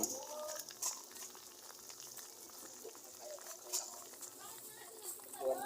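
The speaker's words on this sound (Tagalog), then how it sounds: "Kumukulo pa lang siya." Ginataang gulay, vegetables in coconut milk, boiling in a pot on a home stove, giving a soft, steady bubbling hiss with scattered small pops, with children's voices faintly in the background.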